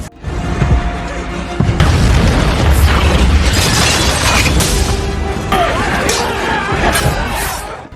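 Firecrackers burst in a samurai battle scene, a loud continuous barrage of bangs and crackling pops with sharp cracks, dense and close, with voices shouting under the noise.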